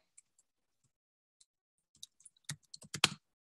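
Someone types a search on a computer keyboard with a few sparse clicks, then a quick cluster of keystrokes toward the end, close and fairly quiet in an otherwise silent room.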